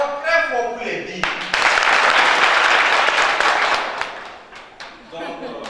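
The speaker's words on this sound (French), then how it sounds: "Encore très fort pour les billes." A conference audience claps hard in a loud swell of applause that builds, holds and then fades, with a speaker's voice heard before and after the clapping.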